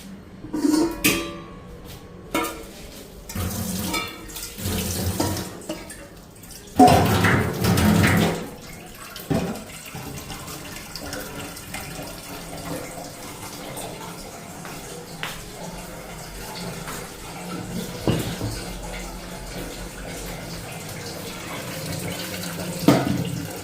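Water poured through a T-shirt used as a filter: splashing, gushing bursts at the start give way to a steady, softer trickle and drip, with occasional clatters nearby.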